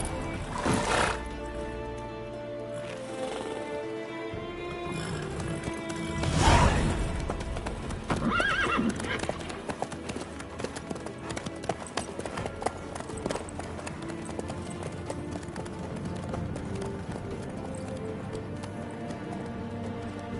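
Horse hooves clip-clopping at a steady walking pace in The Witcher 3, with a brief neigh near the start and ambient game sounds behind, continuing through the stretch while voices talk faintly.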